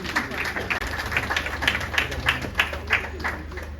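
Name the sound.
audience applause for the Deputy Governor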